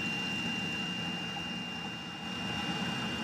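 A car engine runs steadily with a low, even rumble and a thin whining tone above it, continuous throughout with no talking.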